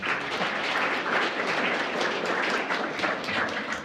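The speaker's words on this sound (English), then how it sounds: "I'm sure that's the last time you'll applaud." A lecture audience breaks into applause for a SETI talk, giving a dense, continuous wash of clapping from many hands at moderate volume throughout.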